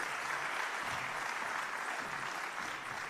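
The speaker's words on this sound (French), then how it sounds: "Je vous propose de l'applaudir maintenant en attendant qu'il commence sa causerie." Audience applause welcoming motivational speaker Michel Poulaert at a conference, a steady dense wash of clapping filling the room throughout.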